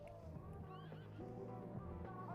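Horse neighing in The Sims video game, a drawn-out whinny layered with other horse calls and a steady background of game sound.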